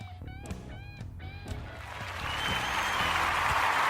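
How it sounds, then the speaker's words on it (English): Canned applause swells in from a quiet start behind a radio show intro jingle, a broad clapping wash that rises and sustains loudly over the final two seconds. "Oh, listen to that applause."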